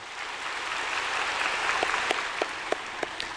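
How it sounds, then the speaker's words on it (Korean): Church congregation clapping in a sanctuary during a sermon, a steady wash of applause that holds at a moderate level with a few sharper claps near the end. "우리 박수로 한번 격려해 주시기를 바랍니다."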